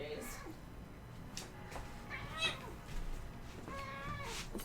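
A house cat meows several times, short, fairly faint calls spread through a quiet room, with a person talking softly nearby.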